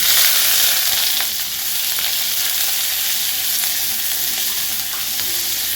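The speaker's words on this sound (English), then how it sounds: "right now I'm heating my cooking oil, and then I'm going to be using red onions" Red onions fry in hot cooking oil, a loud, continuous crackling sizzle up close with occasional stirring clicks and no talking.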